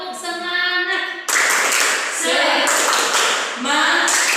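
A class of students performs a rhythmic clapping routine, with sharp, crisp bursts of claps in a patterned sequence alternating with group chanting and a voice calling out between rounds.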